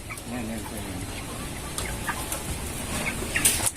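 Broiler chickens, about 33 days old, cluck in scattered bursts close by, with some background noise and brief rustling throughout.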